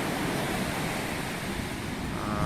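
Pacific Ocean surf at Manhattan Beach in the Los Angeles area, a steady broadband wash of waves with some wind, continuous and fairly close, with no voices.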